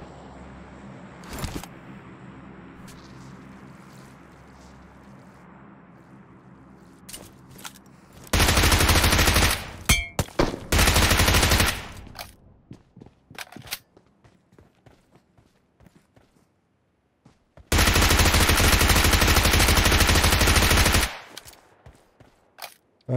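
Automatic weapon fire in the mobile game PUBG Mobile comes in sustained loud bursts separated by quieter stretches of scattered clicks and movement sounds.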